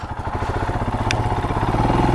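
A motorcycle engine labours at low revs on a steep, winding mountain road on the way to Manang, a close, rhythmic throbbing putter with light mechanical clatter that grows slightly louder as the bike climbs.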